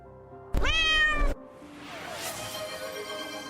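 A cat gives one loud, close meow lasting under a second, a clear rising-then-falling cry, followed by quieter room sound.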